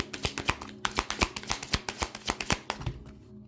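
Witch oracle cards shuffled by hand for a reading: a rapid run of crisp riffling snaps and slaps, about a dozen close, sharp bursts over a few seconds, with no talking.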